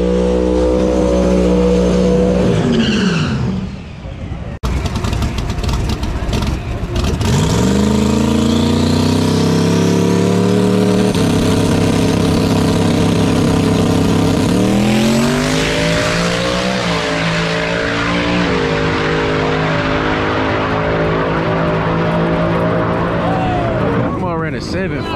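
Street cars drag racing at Texas Motorplex during a Texas Street Car Takeover event, loud engines revving and accelerating hard down the strip with tire squeal, engine notes rising and shifting over about twenty-five seconds, a voice talking underneath.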